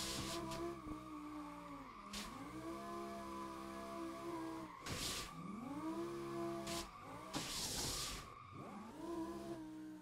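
A drifting Lamborghini in Assetto Corsa revs hard and repeatedly, its engine note climbing and dropping as it shifts, with bursts of loud tire squeal between throttle runs, close and continuous with no talking.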